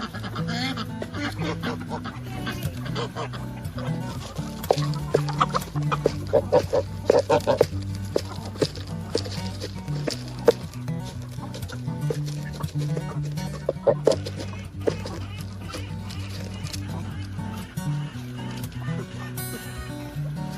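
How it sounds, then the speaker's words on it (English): Chickens clucking and murmuring in a busy flock, with occasional sharper squawks and other farm birds mixed in, continuous and moderately close. "I always find the sounds of the birds so relaxing."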